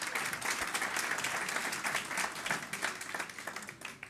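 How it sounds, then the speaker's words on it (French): An audience at a public meeting claps steadily, a sustained round of applause with individual claps audible in a moderately sized room. "On peut applaudir."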